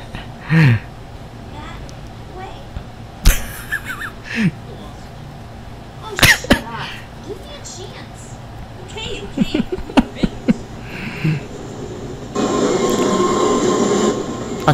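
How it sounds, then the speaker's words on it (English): A train passes in an animated pony short, heard as scattered clunks and sharp metallic hits followed by a sustained rushing roar near the end, with voices talking in between. "A train."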